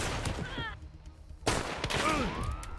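Gunfire in the video game Hunt: Showdown, loud sharp shots in bursts with echoing tails and a brief lull between volleys, a voice speaking briefly amid the shooting.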